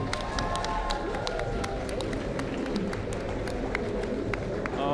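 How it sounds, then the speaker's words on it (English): Audience applause and clapping for the beetleweight combat robot Bish Bash Bosh at a robot combat tournament in Bristol, a steady dense crowd noise throughout with scattered sharper claps and faint voices underneath. "Can we get a really big round of applause for Bish Bash Bosh?"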